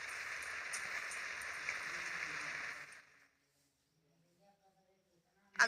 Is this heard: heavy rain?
yes